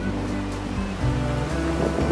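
Ocean surf at Pangobaran beach, a continuous washing roar of waves with steady wind noise buffeting the microphone and a low rumble underneath.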